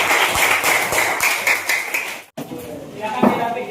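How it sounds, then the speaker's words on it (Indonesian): Schoolchildren in a classroom give a short round of brisk, close clapping that stops abruptly, then a few scattered claps and room noise follow. "Tepuk tangan semuanya."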